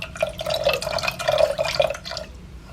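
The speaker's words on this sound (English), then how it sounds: "And then we're gradually going to add the water." Water runs in a steady trickling, splashing stream into a pot of tomato soup, close and fairly loud for a couple of seconds before thinning out.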